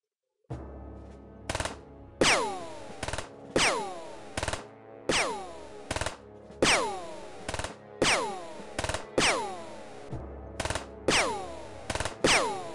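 Automatic gunfire in the X-Com Files video game, delivered as about a dozen sharp bursts at a steady pace, each with a ringing decay, loud and up close with no talking.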